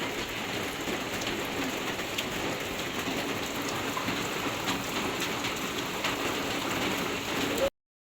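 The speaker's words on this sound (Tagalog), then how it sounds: "Maulan na naman po dito." Steady rain falls outside a shop, a dense, even hiss of drops hitting the ground and surfaces that continues without pause until it cuts off abruptly near the end.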